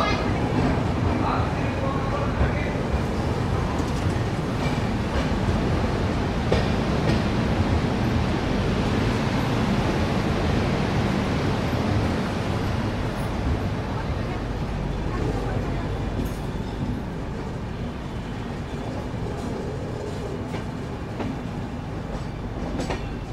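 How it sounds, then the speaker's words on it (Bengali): A train pulls out of Bardhaman Junction, heard from aboard as a continuous rumbling roll with rhythmic clickety-clack of wheels over rail joints, steady and fairly loud, with voices faintly mixed in. "ট্রেন তো ছেড়ে দিল বর্ধমান জাংশন"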